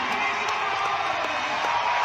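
A CrossFit Games arena crowd cheers and whoops for an athlete attempting a heavy barbell lift, a loud sustained roar with scattered shouts rising through it.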